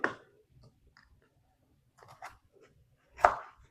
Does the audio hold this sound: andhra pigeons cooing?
no